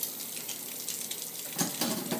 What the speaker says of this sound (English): I'm going to run my water cold,